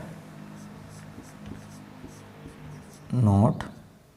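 A pen writing a note, with faint, sparse scratchy strokes under a quiet background, followed near the end by a short burst of voice.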